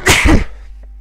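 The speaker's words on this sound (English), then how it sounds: "Sorry, I've sneezed a lot." A single sharp sneeze, close and loud, bursting out and fading within a second, followed by near silence.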